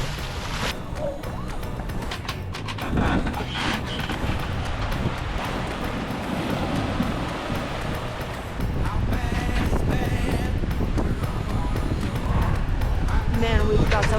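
Strong wind gusts across a sailboat in the mid-Atlantic, a steady roaring rush with sloshing water and creaking underneath, growing louder toward the end, with a voice speaking faintly amid the noise.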